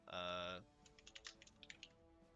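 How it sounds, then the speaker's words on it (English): Quick uneven taps on a computer keyboard click away softly after a brief loud tonal sound at the start, a dozen or so light keystrokes in an irregular rhythm. "I was typing the team name"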